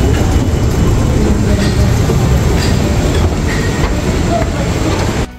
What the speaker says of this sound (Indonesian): Itu kereta menuju Bogor.